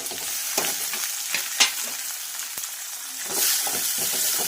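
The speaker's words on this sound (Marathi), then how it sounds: "याला छानपैकी असं फ्राय करून घ्यायचं आहे" Finely chopped medium onion and a small tomato frying in a pan, a steady close sizzle with occasional scraping stir strokes, rising to a louder hiss near the end.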